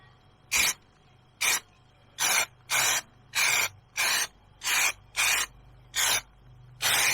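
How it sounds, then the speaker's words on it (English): An aerosol spray mist hisses in ten short bursts at a steady rhythm, each lasting about a third of a second, close and crisp with quiet pauses between. "we're just going to do a light spray mist on the other side"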